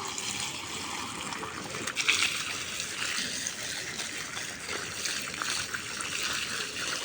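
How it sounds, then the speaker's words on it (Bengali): Water from a hose pipe gushes steadily onto banana and guava plants in a rooftop garden, a continuous close hiss and splash with no voices. "বেশি করে পানি দিয়ে দিই"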